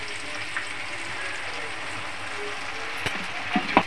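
Ground spice paste of radhuni, nigella, green chilli and cumin frying in oil for a Bengali hilsa curry: a steady, even sizzle throughout, with a few clinks of a spoon or pan near the end.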